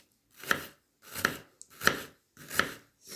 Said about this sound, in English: So we're gonna cut all these apples on these small cubes.